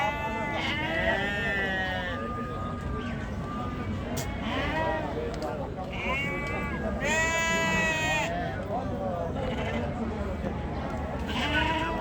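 Goats bleat repeatedly, several overlapping calls near and far, at a busy outdoor sheep and goat market in Ganja, with steady crowd chatter and people talking throughout.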